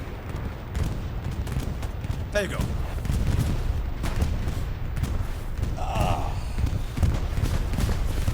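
Gunfire and explosions from the World War II shooter Hell Let Loose at Omaha Beach, a dense, continuous clatter of shots and booms throughout, with someone talking briefly over it.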